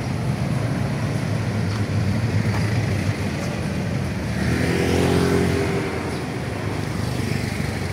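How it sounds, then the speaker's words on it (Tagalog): A motorized tricycle rides through city streets after a storm, its engine giving a steady rough rumble mixed with road and traffic noise, swelling briefly midway. "sakay na lang tayo ng tricycle"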